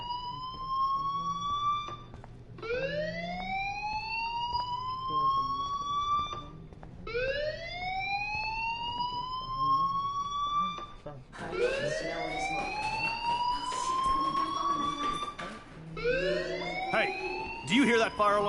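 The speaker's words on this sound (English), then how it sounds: "Do you hear that fire alarm?" A fire alarm in the video game Life is Strange sounds in repeated rising electronic wails, about six sweeping cycles, loud and continuous, with a low background hum beneath.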